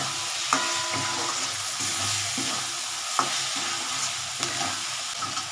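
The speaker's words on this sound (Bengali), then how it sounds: "এটা নাড়া দিয়ে এবার আমি ফুলকপি আলুটা দেবো।" A spice mix with coriander leaves is stirred in a frying pan; rhythmic scraping strokes repeat over a continuous close sizzle, with no voices.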